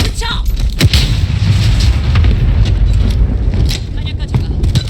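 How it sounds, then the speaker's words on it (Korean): Enemy cluster strike explosions boom and crackle in a Call of Duty Modern Warfare match, loud rumbling blasts with sharp bursts and wind-like roar, while a voice speaks over the battle. "적 확산탄 공습이다."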